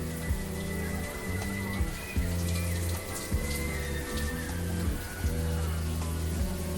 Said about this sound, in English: I like to add a little bit of water as well when I feel like the lather is not there anymore